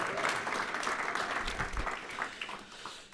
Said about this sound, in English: So you should applaud yourselves for being the people who are going to make a difference